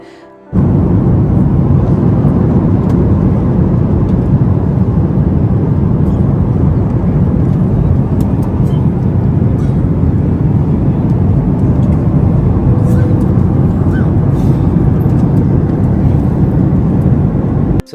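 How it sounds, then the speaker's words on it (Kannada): Steady loud low rumble of a passenger jet cabin during landing approach at Bengaluru airport, continuous engine and airflow roar throughout with no talk. "ನಾವು ಲ್ಯಾಂಡಿಂಗ್ ಆಗ್ತಾ ಇದ್ದೀವಿ"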